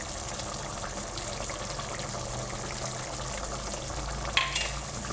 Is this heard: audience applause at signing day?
no